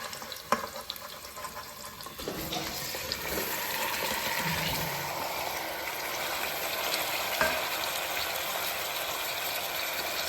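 Stuffed eggplant sizzles softly in a pan after a brief clatter, settling into a steady, moderate frying hiss throughout.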